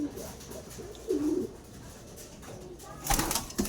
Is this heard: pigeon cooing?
yes